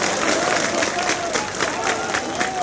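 Crowd applause from archival footage of a welcome for an armed group's leader, a dense steady clatter of clapping with cheering mixed in, loud and continuous throughout.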